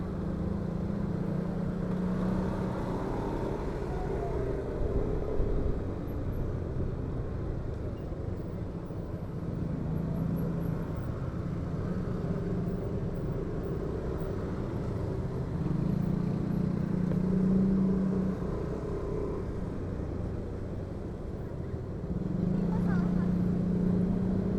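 Motorcycles ride past along a busy Jakarta shortcut road at evening commute time, recorded from an NMAX scooter, with a steady engine drone and several bikes swelling louder as they pass close by over continuous road noise.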